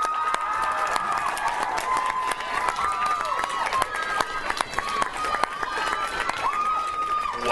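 A convention crowd applauds and cheers loudly and continuously, with whoops and shouts rising over sustained clapping.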